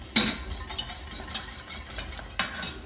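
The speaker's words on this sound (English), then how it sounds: "just chop it up with a small knife and give it a little whisk" Katsu curry sauce is whisked in a pan over low heat, with a quick stirring rustle and light metallic scrapes and clinks, close and steady with a sharper tap near the end.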